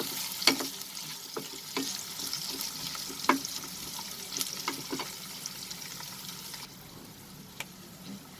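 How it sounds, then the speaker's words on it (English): Dried red chilies and onions for a chicken curry sauté over a medium flame, giving a soft, faint sizzle broken by occasional clinks of stirring, with no talking. "And now just saute it for a minute over medium flame."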